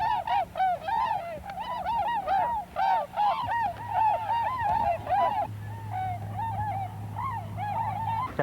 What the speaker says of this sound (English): weren't those swans beautiful?